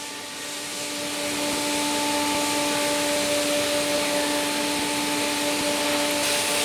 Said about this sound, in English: switch on the vacuum pump and vacuum suction to let the vacuum pump to hold the sacrifice MDF sheet